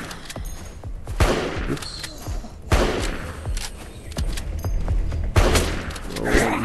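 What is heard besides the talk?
gunfire in the video game LifeAfter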